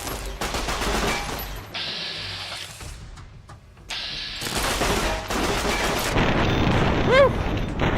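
Modded PC Fallout New Vegas firefight: loud, harsh bursts of rapid gunfire come in several blocks separated by brief lulls, with an explosive rumble and a short whistling tone near the end.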